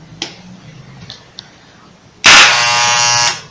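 An electric hair clipper made noisy by hair clogged in its blades switches on after a few faint clicks, giving a loud, harsh buzz for about a second before it cuts off.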